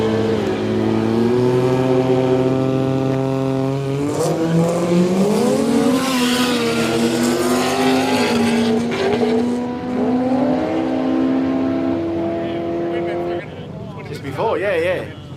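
Race cars at the Oz Aid Quick Street event in June 2023 accelerate hard down the strip, engines rising and falling in pitch through several gear changes, loud and close, while a commentator talks over the noise.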